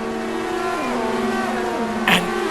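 On-board engine of a ChampCar race car at the St. Louis Grand Prix, a loud, close, droning roar that holds steady through two upshifts, then a sharp burst of noise near the end.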